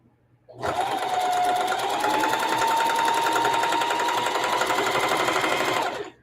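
A sewing machine back stitches upcycled old clothing, its needle motor starting abruptly and running in a fast, loud, steady whir close by for several seconds before stopping.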